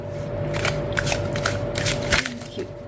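Tarot cards are shuffled up close in a steady, papery riffle with light flicks and taps, over a faint constant hum.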